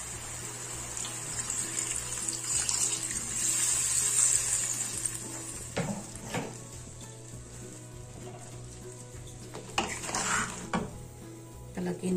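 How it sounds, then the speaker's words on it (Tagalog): Water goes into a pan of crabs seasoned with salt and paprika, giving a close sizzle and stirring clatter, with a few sharp knocks of utensils on the pan. "Ngayon, lagyan na natin ng tubig."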